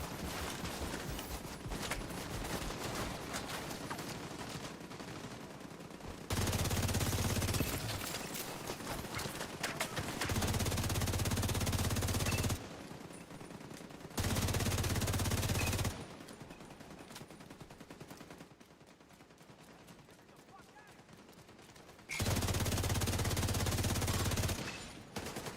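Turrets firing in the video game The Division 2, bursts of rapid gunfire that rise and drop in long stretches, with louder sustained volleys at intervals and dense background noise throughout.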